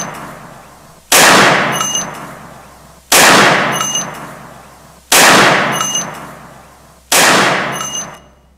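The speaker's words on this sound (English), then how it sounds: "Gunshots, not fireworks, right?" Four loud recorded gunshots, played during civilian response training, ring out at even two-second intervals, each a sharp crack followed by a long echoing decay.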